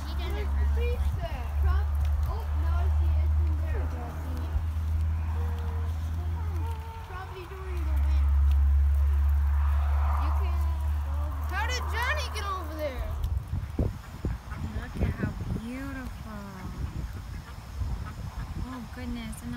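Geese and ducks honk and quack in a noisy flock close by, over a low steady hum, while people talk nearby.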